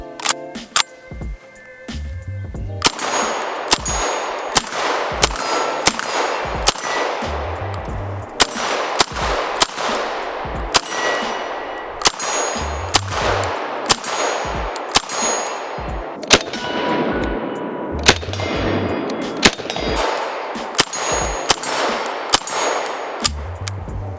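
Rapid pistol-caliber carbine shots with a brace and optic, each sharp report followed by a bright metallic ring from steel targets, fired in quick strings and clustered bursts with short pauses between them, loud and close.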